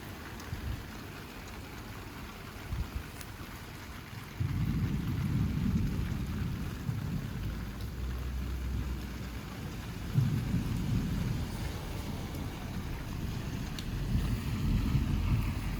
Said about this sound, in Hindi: तो बारिश होने लगी, और एकदम से बारिश तेज़ हो गई।